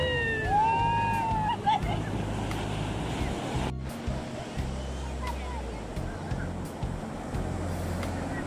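Ocean waves wash steadily at Payyambalam beach in Kannur, a broad continuous roar with wind buffeting the microphone, while faint voices drift in the background.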